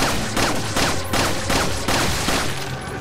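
Rapid bursts of gunfire in the video game Resident Evil 4 crackle in repeated volleys, loud and close, over a steady rumbling background with no talking.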